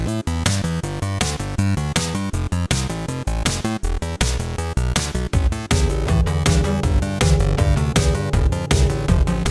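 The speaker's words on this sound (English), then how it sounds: "EBM stands for Electronic Body Music" Electronic Body Music track plays loud and steady, with dense pounding electronic beats, sequenced synth lines and continuous full-band texture throughout.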